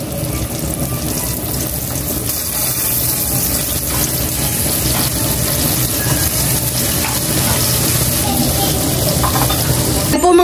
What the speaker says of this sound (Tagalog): ito po yung last na paa ng manok po na ipiprito ko.